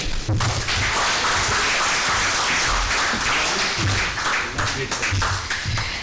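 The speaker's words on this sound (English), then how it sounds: "Can we have another round of applause for sir, please?" Steady applause fills a conference hall at a trade conclave as an audience claps after the chief guest's address, dense and loud throughout.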